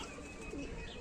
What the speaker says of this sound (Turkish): Bakın güvercinler var ne kadar güzel.